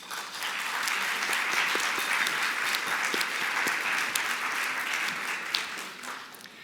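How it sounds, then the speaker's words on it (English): Steady, moderately distant applause fills a volunteer recognition luncheon, many hands clapping together in an even wash that tapers off slightly at the end. "Please join me in a round of applause for all of those"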